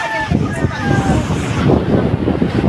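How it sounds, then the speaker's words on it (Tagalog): Strong sea waves whipped up by a storm off Masbate roll in as a loud, continuous roar mixed with heavy wind buffeting, while someone speaks over the noise. "Ayan ang dagat o. Lakas ang alon."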